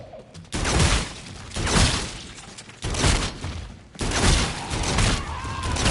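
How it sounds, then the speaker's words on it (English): Repeated loud shotgun blasts in the Infinite Warfare Zombies game, Zombies in Spaceland, firing in bursts about a second apart with sharp, heavy reports and no speech over them. "I'm glad we got more ammo for this shotgun."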